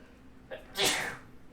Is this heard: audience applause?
no